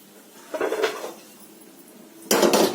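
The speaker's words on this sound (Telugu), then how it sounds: "ఇంకో కళాయి పెట్టాను" A second kadai set down on a kitchen stove, two close metallic clanks of pan against metal, the first softer with a rattle and the second louder, with quiet in between and no talking.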